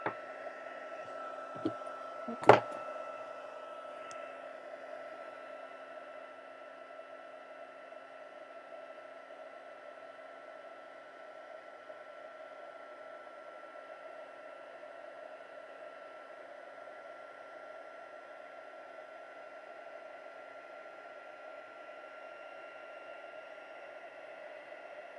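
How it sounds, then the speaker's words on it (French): Heat embossing tool blowing hot air over embossing powder on a handmade card, a steady airy whir like a small hair dryer running continuously, with a couple of brief clicks and knocks near the start. "on va passer notre fer à embosser"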